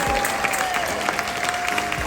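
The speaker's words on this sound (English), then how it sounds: "With a measure of applause, please let them know" A crowd applauds steadily aboard the Royal Caribbean cruise ship Utopia of the Seas, a dense wash of clapping from many hands at moderate volume, with a few scattered voices in the mix.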